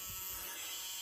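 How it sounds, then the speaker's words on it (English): A small hobby drill bought from Amazon whines steadily while making holes for body pins, a close, continuous high-pitched buzz over the whole brief moment. "very peculiar hobby drill from Amazon. I'm going to make some holes now"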